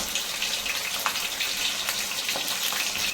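Fish fries in a pan for a spicy fish curry, giving a soft, steady sizzle and crackle that stays faint and continuous throughout, with no voices.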